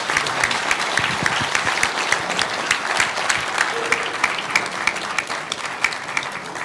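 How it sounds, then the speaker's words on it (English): Audience at a Tollygunge Club book launch in Calcutta applauds chess grandmaster Vishy Anand, steady dense clapping from a full room with a few sharp individual claps standing out, sustained throughout. "a big applause for Vishy Anand"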